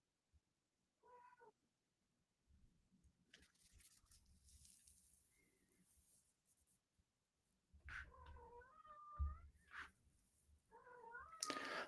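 A cat gives a series of drawn-out meows, faint at first and then louder near the end, over a low background hum and scattered noise.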